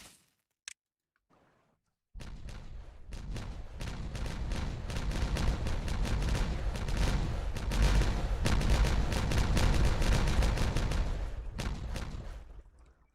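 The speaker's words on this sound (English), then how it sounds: "Going to detonate that now." Dynamite detonating in Timberborn, a sudden blast that settles into a long, loud rumble of debris and crackling, near and sustained for roughly ten seconds before fading out.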